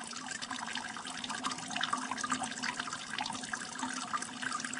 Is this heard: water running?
yes